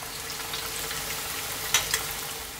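Cauliflower nuggets fry in hot oil, a steady close sizzle with small bubbling pops and a couple of sharper crackles, alone without talking.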